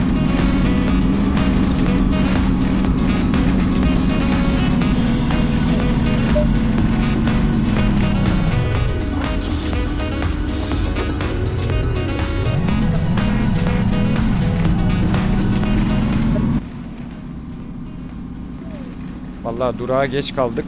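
Bus engine roaring at full speed through narrow city streets in the driving game The Bus, a loud steady drone with a speaking voice over most of it and the engine briefly dropping off near the end.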